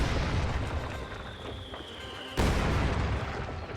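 Mortar shells exploding in a real-time strategy battle: a dull rumbling blast fades away, then a second sharp, loud detonation bursts in and rolls on with heavy low-end rumble.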